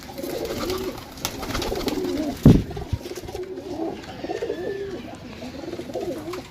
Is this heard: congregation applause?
no